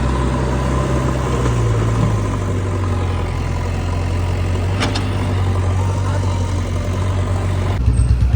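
A parked tractor idles with a steady low rumble throughout at a flood site by a breach in the Bhakra canal near Ghanaur, Punjab, and muffled voices talk faintly over it.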